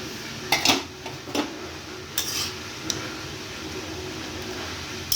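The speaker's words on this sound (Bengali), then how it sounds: "এইভাবে কিন্তু নাড়তে হবে।" A utensil stirs potato leaf greens with crushed garlic and dried red chillies in a pan, giving a few scattered scraping clinks against the metal over a low, steady background, with no talking.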